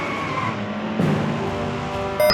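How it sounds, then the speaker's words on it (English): A motorcycle, underpowered, peels out with tires skidding and screeching against the pavement under steady engine noise, one short continuous burst close by with a louder surge near the end. "he even did a wonderful peel out for us"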